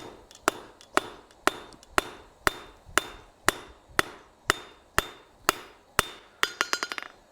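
Blacksmith hammering hot metal on an anvil to upset it, sharp ringing strikes at a steady pace of about two per second, ending in a quick flurry of lighter bouncing taps.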